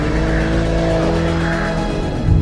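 A BMW M3 Touring drifts with the engine roaring loud and steady throughout, tires squealing as the back end hangs out, with a brief surge near the end.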